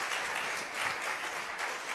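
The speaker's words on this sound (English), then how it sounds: "Could we just give another round of applause for setting the tone for today with this awesome energy to the celebration choir?" A church congregation applauds a celebration choir at a Sunday service: dense, steady clapping from many hands, continuous and fairly distant-sounding, without speech.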